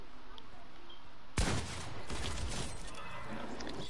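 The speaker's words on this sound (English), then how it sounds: "Bro, stop shooting." A teammate opens fire in a shooter video game: a sharp loud gunshot cracks out, then a spell of rattling gunfire and echoing debris noise lingers over a low steady background.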